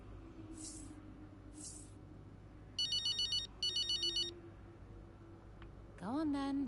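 Phone ringtone in the racing game F1 23, heard as short high electronic trills in two bursts over a low background hum, followed by a rising tone.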